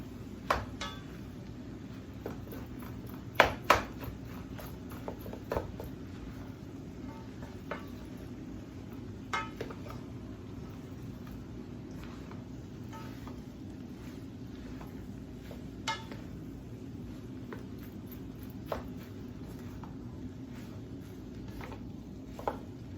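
Fried rice being stirred and mixed in a pot, faint scattered scrapes and clinks of a utensil against the metal over a low steady background, spread sparsely across a long stretch.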